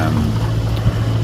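A sailing boat's diesel engine runs steadily at sea, a continuous low drone with a rumbling hum and wind-like hiss, close and constant throughout.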